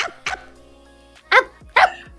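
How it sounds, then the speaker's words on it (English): Dog barking in three or four sharp, loud, close barks spaced irregularly across a couple of seconds, with quiet pauses between them. "Bark."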